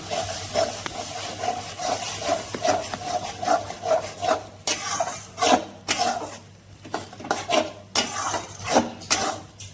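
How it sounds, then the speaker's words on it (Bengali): Spice paste with salt, turmeric and a little water is sautéed in a pan, a spatula scraping and clinking against the metal in steady repeated strokes, close and clear with no talking. "এবার আমি মশলাটাকে ভালো করে কষিয়ে নেব"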